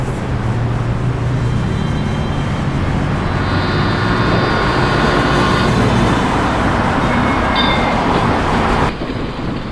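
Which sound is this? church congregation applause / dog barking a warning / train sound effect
train sound effect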